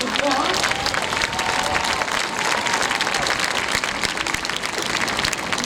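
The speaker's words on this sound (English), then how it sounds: "give them all a round of applause" A large audience at a Delaware State University graduation ceremony claps loudly and continuously, a dense, steady wash of applause filling the whole stretch with no pause.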